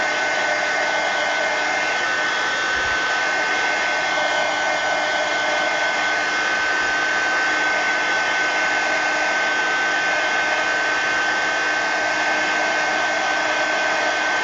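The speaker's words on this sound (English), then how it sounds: "let me hit them with the heat gun just slightly, just so they're not really sticky wet" A heat gun blows steadily for the whole stretch, drying freshly glued mixed-media collage art cards; the even, close whirring hiss holds at one level throughout with no talking.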